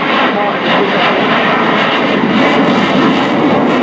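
Swiss Air Force F/A-18C Hornet jet making a slow pass at an airshow, a loud continuous engine roar throughout, with a commentator talking over it.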